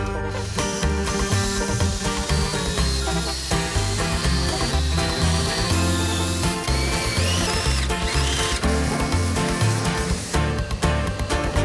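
A power drill runs steadily, boring holes in a panel during a van build, with a loud continuous whine.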